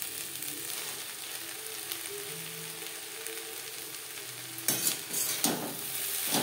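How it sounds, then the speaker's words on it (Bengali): Drumstick flowers and eggplant sizzle steadily in a pan on a low to medium flame, with a few scraping stirs near the end and no voices. "বেগুনের সাথে সজনে ফুল বেশ ভালো করে মিক্স করে দেবো।"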